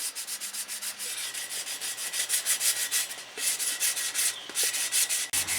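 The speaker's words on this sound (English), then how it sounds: "I have to blend the primer now, and I'm going to use a 320 grit sandpaper" Fine 320 grit sandpaper scrubs over primer on a wheel rim being refinished after curb rash, a rapid rhythmic back-and-forth rasp heard up close and continuous.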